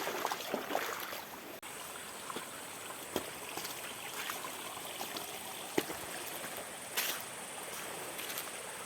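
Steady broadband rush of a tall waterfall, Curug Onje in Temanggung, Indonesia, continuous and fairly loud, with a few faint knocks and clicks over the top.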